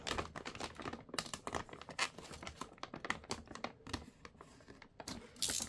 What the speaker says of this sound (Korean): 칼로 이 비닐이 질긴 비닐이에요.